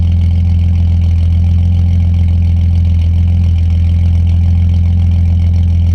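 A Holden VS Commodore engine, just started from cold, idles with a steady low rumble, loud and close, running continuously without pause.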